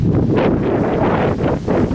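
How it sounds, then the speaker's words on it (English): Strong wind buffets the microphone in a constant heavy roar, gusting slightly louder and softer throughout, with no one speaking. "it's really windy, so the drone's not going up"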